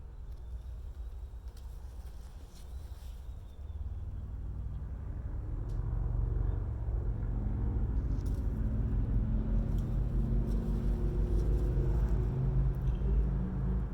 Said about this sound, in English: instead of just hearing the traffic outside my house